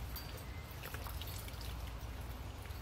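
Water trickling and dripping into a wet cement mix for a flower pot made with old jeans, a soft continuous patter heard up close and quiet, with no talking.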